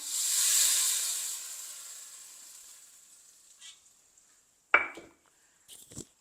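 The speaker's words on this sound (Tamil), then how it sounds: "நான் இப்போ இந்த தாளித்ததை நான் இதுக்குள்ளே சேர்க்குறேன்" Hot tempering poured into a simmering Sri Lankan ground-spice fish curry sets off a loud hissing sizzle that slowly fades, followed by a few clanks of a spoon against the pot.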